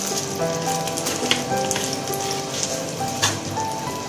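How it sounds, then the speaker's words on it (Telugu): Tempering spices crackle in a little olive oil alongside garlic for ridge gourd peel chutney, a loud, close, continuous sizzle with scattered pops and no speech. "ఇప్పుడు తాలింపు దినుసులు"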